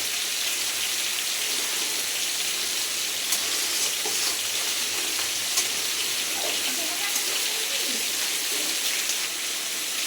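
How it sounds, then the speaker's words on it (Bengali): Rice frying with spices in a pan for bhuna khichuri, a steady dense crackling hiss that runs evenly throughout at moderate level. "চালটা খুব সুন্দর ভাজা ভাজা হয়ে যাচ্ছে"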